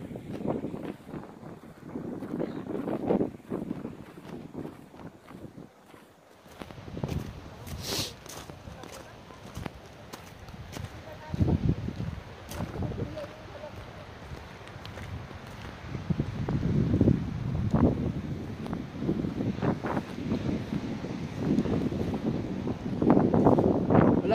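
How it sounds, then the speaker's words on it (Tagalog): Strong wind buffets the microphone in gusts throughout at Cape Palliser, rumbling low and uneven, with occasional voices and some knocking noises underneath. "malakas ang hangin"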